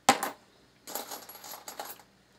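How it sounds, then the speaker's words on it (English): Brass rifle cartridge cases, a few judged too long, tossed onto a couch: a sharp metallic clink-and-rattle cluster right at the start, then two more softer bursts of tumbling rattles nearby, no talk. "The ones I'm throwing here on the couch beside me are the ones that are a little bit too long"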